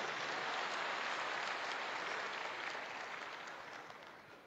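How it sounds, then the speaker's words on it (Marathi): A crowd at a political rally applauds in a dense, sustained burst of clapping that slowly fades toward the end, heard alone. "एकदा सगळ्यांसाठी टाळ्या वाजवा म्हणजे मला पण कळेल सुरुवात करायची"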